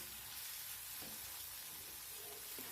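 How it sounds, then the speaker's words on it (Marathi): Onion and tomato sizzle steadily in hot oil, a constant broadband frying hiss with a couple of faint stirring scrapes, close and unbroken for the whole stretch. "तेलावर कांदा छान परतून घ्यायचा आहे"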